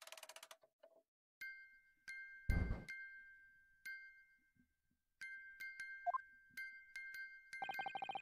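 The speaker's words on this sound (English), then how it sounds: "Just what relevance do you propose this woeful chiming has on this case?" Chiming bells in the Great Ace Attorney video game: scattered soft dings and sustained bell tones separated by pauses, with a brief low thud in the middle and a denser chime at the end, with no speech.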